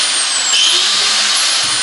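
An angle grinder powered from a high-voltage line near Pripyat runs steadily at high speed, a loud continuous whine with a brief pitch dip and recovery midway, no voices.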